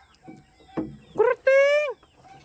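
Backyard chickens on a farm in the Philippine provinces give a few loud, squawking clucks and a rising alarm cry in quick succession, close by, with faint background noise around them.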